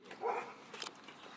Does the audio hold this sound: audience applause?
no